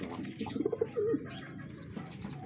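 Pigeons coo close by, soft throaty rolling calls with a few higher chirps and some background rustle, with no talk over them.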